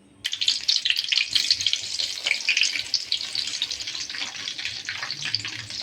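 Food deep-frying in hot oil in a kadai, a loud, steady crackling sizzle that starts abruptly and keeps going without a break, close up and alone.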